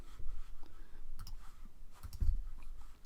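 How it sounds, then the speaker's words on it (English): A computer mouse clicks a few times at close range, sharp small taps scattered among soft handling noise and faint background hum. "So I'm going to click on that. Right click."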